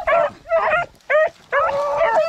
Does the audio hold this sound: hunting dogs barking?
yes